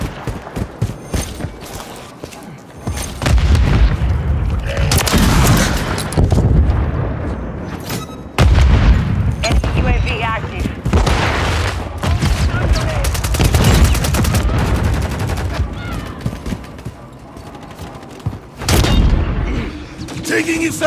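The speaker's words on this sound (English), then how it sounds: "Taking effective fire!" Rapid automatic rifle bursts and heavy booms from a Modern Warfare 3 Domination multiplayer match, loud and dense for most of the stretch, with brief lulls. A voice calls out over the shooting.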